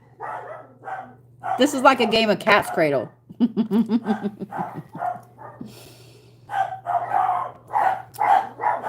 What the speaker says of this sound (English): Excuse my nerdy dogs.